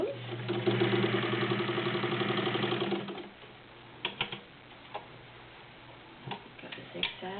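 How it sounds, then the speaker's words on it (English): A vintage Necchi BU heavy-duty sewing machine sews a zigzag stitch in a fast, even rhythmic chatter for about three seconds, then falls quiet apart from scattered soft clicks and knocks. "Got the zigzag. Nice smooth zigzag stitch."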